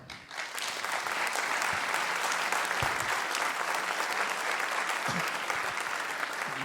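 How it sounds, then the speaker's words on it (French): An award ceremony audience bursts into sustained applause for sports champions, a thick, steady wash of many hands clapping that rises quickly and holds at full loudness throughout. "je vous souhaite de faire des salves d'applaudissements pour nos champions"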